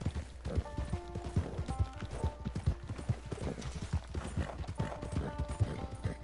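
A horse in Red Dead Redemption 2 Online clip-clops along in a quick, steady rhythm of hoofbeats, close and clear, with faint game ambience and musical tones behind.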